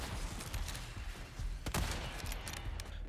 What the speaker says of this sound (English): using the sniper rifle to finish them off